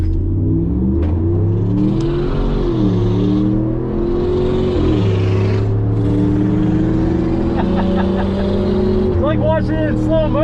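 A 2019 Ram Rebel truck with stock throttle response accelerates hard down a drag strip, its engine roaring loud and close, climbing in pitch through several gear shifts. A voice speaks briefly near the end.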